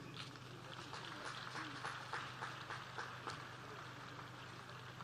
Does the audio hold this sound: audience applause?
yes